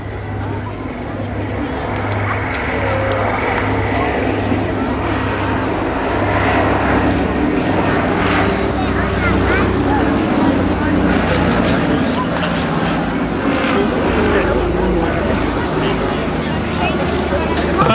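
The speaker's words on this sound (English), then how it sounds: "Now as the aircraft comes in towards us, you can see the wingtip mounted floats have been put down." A Consolidated Catalina flying boat approaching at an air show with its wingtip floats lowered, its piston engines giving a loud, steady propeller drone throughout while a commentator talks over a public address system.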